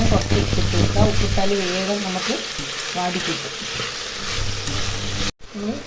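Onions fry and sizzle in a pan for a biryani, with a steady crackle and occasional scraping stirs, while a voice talks over the cooking throughout.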